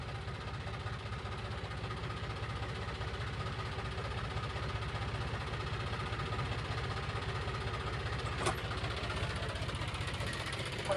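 A tractor engine idles steadily at rest, a low continuous mechanical rumble with faint knocking throughout, close and fairly constant, with one brief sharp knock near the end.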